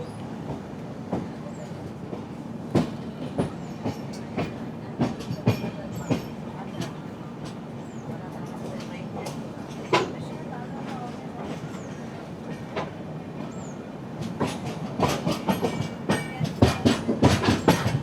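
Onboard the Netravati Express as it rolls slowly into Shoranur Junction, wheels clack in a steady rhythm over rail joints with a rumbling carriage, the clacks growing louder and denser toward the end.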